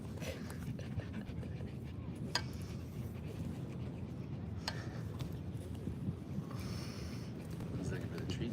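Dog panting in a fast continuous rhythm, close and breathy, with a few sharper sniffs and snorts over a low rumbling background.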